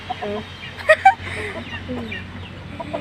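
Chickens cluck close by in short bursts, a couple of sharper squawks standing out, while a voice talks quietly underneath.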